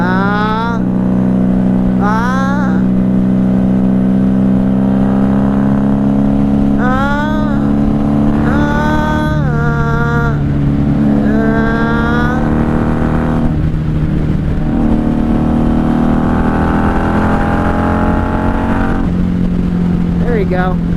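A 1994 Honda Magna 750 motorcycle engine revs repeatedly while riding with a manual transmission, rising whines climbing and falling in several surges over a loud, constant engine drone and wind rush.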